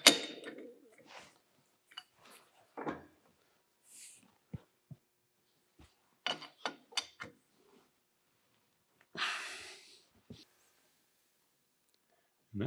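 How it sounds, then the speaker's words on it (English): Lathe chuck jaws being tightened in a machine shop. Quiet, scattered metallic clicks, ticks and clunks come in short clusters separated by long silent pauses. "I'm going to tighten these jaws up"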